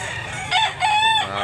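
A white rooster crows loudly and close by, a drawn-out, strained call broken into a couple of rising and held segments.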